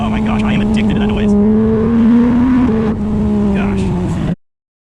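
Loud, close engine note from a 2018 Porsche 911 GT3 flat-six with an upgraded exhaust, rising gradually under steady load. It dips briefly, then holds before cutting off abruptly.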